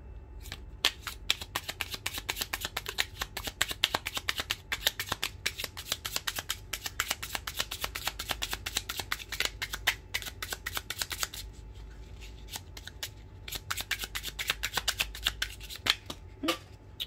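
Tarot cards are shuffled close up in a long run of fast, crisp riffling flicks, with a short pause before the shuffling resumes.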